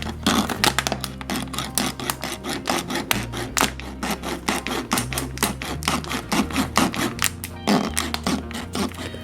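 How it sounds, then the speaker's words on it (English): A plastic bottle is sawn through just behind its ring during a GI Joe Jeep model build, giving a fast, steady run of rasping strokes up close. Faint music plays underneath. "Now I'll saw off the end of the bottle"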